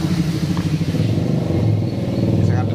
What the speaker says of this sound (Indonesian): Jadi suara mesin itu ya, kalau pas mesin mau dimatikan ada suara ces gitu.